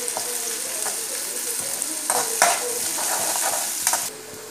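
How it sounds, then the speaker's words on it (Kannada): Onions, curry leaves and green chillies fry in oil in a pan, sizzling loudly and steadily up close while a utensil stirs and scrapes intermittently. "ಈಗ ಚೆನ್ನಾಗಿ ಫ್ರೈ ಮಾಡುವ."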